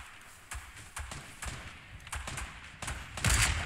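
Repeated bursts of gunfire in a Fortnite 50v50 battle, a string of mid-distance shots at a steady pace with a louder, noisier blast near the end.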